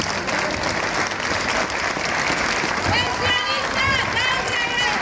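Crowd applause for singers at a pensioners' anniversary gathering in Barakaldo, a dense continuous wash of clapping with voices shouting and talking over it throughout.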